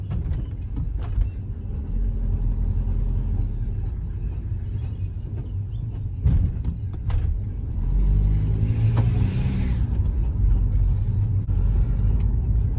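An old Jeep rolls along with a low, steady engine rumble and road noise, sometimes rising slightly as it accelerates, with a few knocks and rattles from the cabin.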